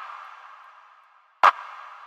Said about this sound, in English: So we actually have this clap that has virtually no high end.